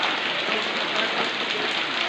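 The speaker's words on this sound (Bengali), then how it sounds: "এই সকাল থেকে বৃষ্টি, বৃষ্টির কারণে তো মানুষ বাজারে আসতে পারে না বাড়ি থেকে" Steady rain falls at a village market, a dense even hiss of drops on surfaces holding constant throughout with no voices.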